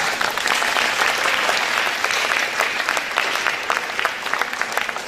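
Audience at an end-times church seminar clapping continuously, a dense, loud, sustained wash of applause from a crowd indoors, steady throughout without voices standing out.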